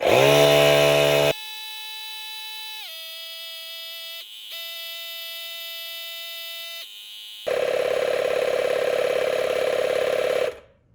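An Etenwolf S5 cordless tire inflator running close by, a loud steady mechanical drone that shifts pitch in several steps as it pumps a tire, then cuts off abruptly at the end.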